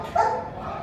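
A puppy being visited gives one brief, fairly near bark early on over soft background noise, with faint whimpering undertones.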